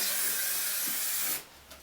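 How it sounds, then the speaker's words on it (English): Hairspray hisses from a can onto hair set in velcro rollers, a steady close spray lasting over a second before stopping abruptly, followed by a short faint puff. "We're just going to spray a little bit of the hairspray on all the way around."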